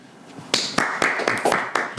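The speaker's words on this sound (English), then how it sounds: "give it a clap all around" A podcast studio group gives a guest a round of applause, sharp claps accelerating into a steady burst of hand claps, close and fairly loud, with no talking over them.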